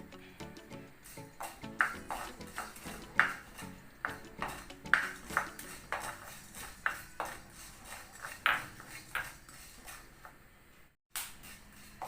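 Spoon and pan clinks ring out in a steady, irregular series, close by, as black peppercorns are tossed in a pan while dry-roasting spices for sambar powder, with no talking.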